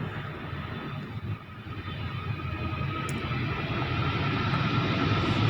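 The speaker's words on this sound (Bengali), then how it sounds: "বিমানের শব্দ কে কে পাচ্ছেন" A steady broadband roar like a jet passing overhead, rising gradually in loudness, with no voices.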